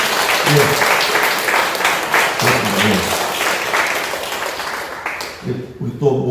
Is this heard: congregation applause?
yes